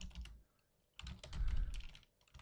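Keys clatter on a computer keyboard in two bursts of quick, uneven taps close to the mic, with a short quiet gap between them and no talking.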